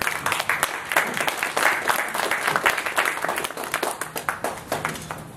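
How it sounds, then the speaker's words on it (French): An audience applauds a guest speaker at an evening debate on labour law: dense, steady clapping fills the room, fairly loud and close, thinning slightly toward the end. "Guillaume Étivan, que je vous demande d'applaudir."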